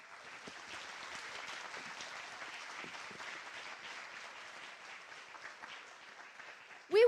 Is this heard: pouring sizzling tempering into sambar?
no